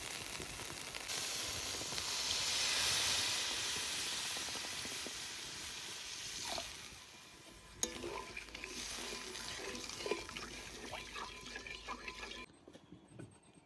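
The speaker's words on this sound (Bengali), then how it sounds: "সুন্দর তেল ছেড়ে দিয়েছে মশলা কষানো হয়ে গেছে এবার জল দিয়ে দেবো" Water poured into a pan of spice paste fried until the oil separates, for a seafish curry cooked in a village kitchen, producing a broad, steady hiss and sizzle that gradually subsides into softer bubbling and crackling.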